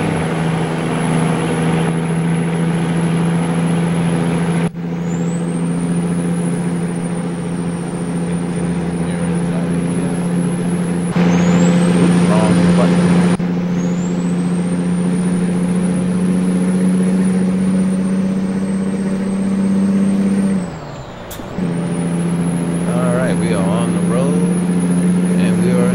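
Truck engine in American Truck Simulator, a steady low diesel drone with a high whine, held loud throughout with a brief dip near the end as air brakes hiss and release.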